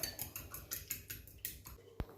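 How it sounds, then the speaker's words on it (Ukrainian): Quick, light clinking of a fork whisking eggs in a bowl in an uneven rhythm, fairly quiet and close, ending with a single sharper tap. "Далі збиваємо вилочкою яйця."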